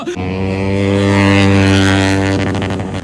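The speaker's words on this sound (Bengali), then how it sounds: "বুঝতে পারছো গাইস গাড়ি চলছে" A vehicle engine drones steadily and loudly with a strong, even hum throughout, shifting slightly near the end.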